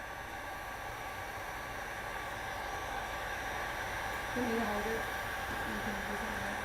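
A heat gun blows hot air onto an old window part to loosen it, a steady airy whir holding at an even level throughout, with a faint voice briefly audible partway through.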